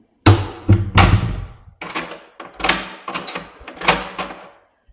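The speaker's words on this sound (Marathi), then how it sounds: "दरवाजा बंद करते मी आता" A Bosch dishwasher door swung shut at home, a series of close, loud thunks and rattling clatters with short pauses between impacts, no talk.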